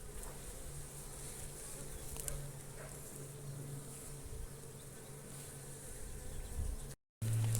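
A steady, dense drone of honeybees buzzing around an open beehive during an inspection, continuous and close throughout, with a brief dropout near the end.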